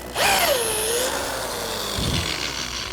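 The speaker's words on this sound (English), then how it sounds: "I can drill straight down into the tenon, all the way down to this little ring that's on the shank." A power drill bores into a wooden tenon on a sculptured rocker's back leg, spinning up with a rising whine that settles into a steady grind, then a brief lower burst of cutting near the end.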